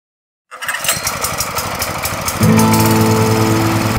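A small 7.5 HP power weeder engine starts up after a moment of silence and runs steadily, growing louder and throatier midway with a rough, constant drone.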